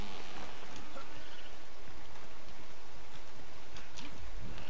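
Steady rain in the video game ARK: Scorched Earth, a dense continuous hiss of falling drops with no pauses, heard alone throughout.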